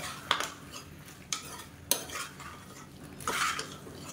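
Vegetables and tomato sautéing in a pan, with a spoon scraping and clinking against the metal in a few separate strokes and a soft sizzle underneath, close and fairly quiet.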